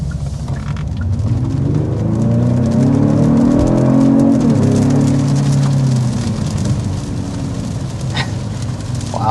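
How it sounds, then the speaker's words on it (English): A 2026 Genesis G70 sport sedan accelerating hard, heard from inside as a loud engine drone climbing through rising tones that drop at a shift and climb again, then settle into steady road noise. "first we need to go ahead and start with a hard acceleration"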